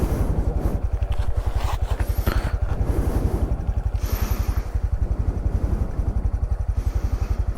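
A motorcycle engine chugs in a rapid, uneven pulse close by, with clattering and scraping over rough off-road ground in Great Smoky Mountains National Park as it rides along.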